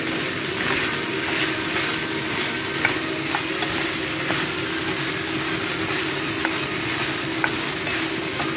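Zucchini stir-frying in a hot pan, with a steady broadband sizzle throughout and occasional sharp scrapes and clicks of stirring, close and continuous with no voices.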